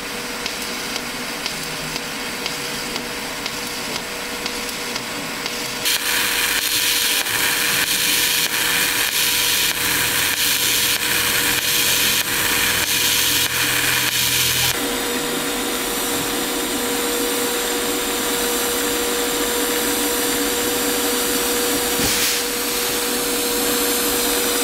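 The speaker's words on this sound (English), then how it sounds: "we'll get some shots of you doing some TIG welding on some nice stainless we've got here" Stainless steel is TIG welded with a Bohler Uranos 2000 SMC multi-process welder, a steady electric hiss and buzz that swells louder for several seconds midway, then settles to a constant drone.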